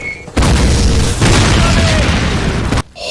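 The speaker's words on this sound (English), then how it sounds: "The mortars dropping are goddamn terrifying." Mortar shells explode in the Call of Duty 1 village defense, with a heavy, loud booming blast that rolls on for over two seconds, a second impact layered in the middle, before cutting off sharply.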